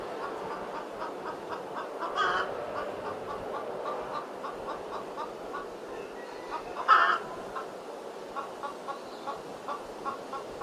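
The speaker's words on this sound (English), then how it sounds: "Some chickens now, David." Chickens cluck softly in a quiet yard, short repeated clucks with a couple of louder squawks, no talking.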